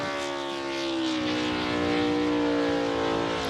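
NASCAR Cup Series car doing a burnout and shredding a rear tire, a loud, sustained engine drone at high steady revs with a rough hissing tire roar over it, close and swelling slightly.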